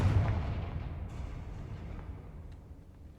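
A Confringo fire-blast spell explodes in the Hogwarts Legacy video game, a deep booming burst that rolls off in a low rumble and fades over a few seconds.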